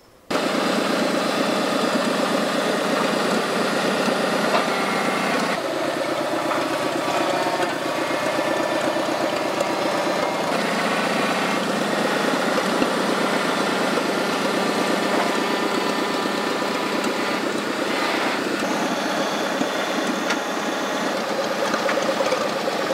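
A small mobility loader engine with pallet forks attached runs steadily at close range, a constant droning hum with a slight knock that shifts pitch a few times as the throttle changes, and no talking.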